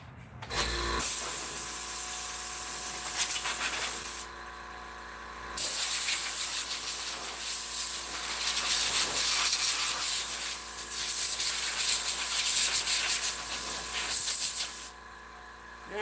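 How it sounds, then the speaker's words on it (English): An air compressor runs steadily with a loud broadband hiss and hum, cycling off briefly twice before restarting, at a chainsaw bear-carving session. "I'm going to get you away from that compressor though, because that's a little loud."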